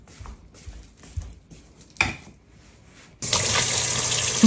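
Tap water runs hard into a sourdough starter container being washed at a sink, a steady loud gush arriving after a few seconds of scattered clinks and handling knocks.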